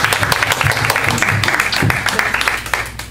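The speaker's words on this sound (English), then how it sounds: "Give all a round of applause." A church congregation at a praise dance event applauds, a steady patter of many hands clapping at moderate distance, with voices and speech mixed in underneath.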